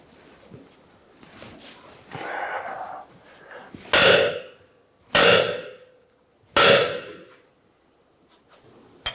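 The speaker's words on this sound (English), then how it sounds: "Using a 22mm wrench on the head of the bolt, we're going to use a 19mm wrench on the backside to loosen the nut" Wrenches working the rear lower control arm bolt and nut on a 2011-2014 Hyundai Sonata: after some rustling, three loud, close metallic bangs and ratcheting bursts spaced about a second apart, a rough effort noise in between.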